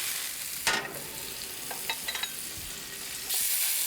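Butter sizzling in a hot pan while cooking a chicken dinner, a continuous close frying hiss broken by a few clattering pan and utensil knocks, louder toward the end.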